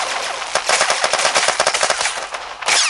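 The Blacktusk weapon in the mobile shooter Armajet fires rapid, loud bursts of gunfire, a dense stutter of shots running almost without pause.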